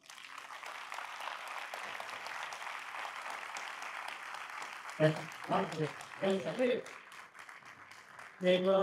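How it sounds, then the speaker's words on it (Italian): Audience applause after a talk at a bconnect event in Milan, steady crowd clapping filling the room for several seconds before a voice speaks over it in short bursts near the end. "fammi pigliare questo applauso."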